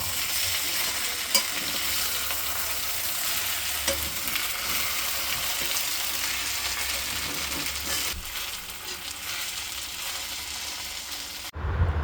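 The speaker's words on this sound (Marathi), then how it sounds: "आता आपण ही थाटी काढून हे बेसन या पद्धतीने पलटी करून घ्यायचं" Besan made from chana dal sizzles steadily in a pan while it is turned and stirred, giving a continuous close hiss with faint scraping, then a sudden clatter at the very end; no voices.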